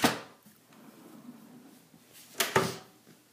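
A file cabinet drawer slides out from under a desk unit, with a sharp knock at the start, a soft sliding rumble, then two quick clacks near the end, all close and fairly quiet.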